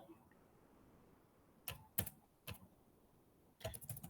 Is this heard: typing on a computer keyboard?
yes